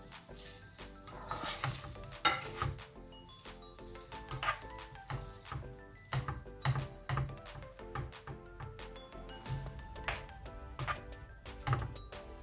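Salted butter melting and sizzling in a covered pan, a steady soft frying crackle with scattered small pops and faint clinks, moderately quiet and close throughout.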